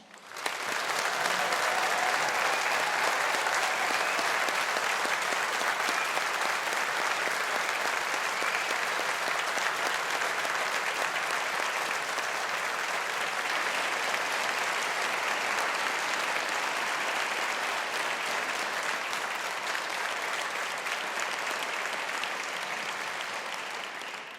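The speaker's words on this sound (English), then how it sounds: "let us all here today show our appreciation with a collective round of applause for our graduates and alumni" A large graduation ceremony audience gives graduates and alumni a long, sustained round of applause, dense and even throughout before tapering slightly at the end.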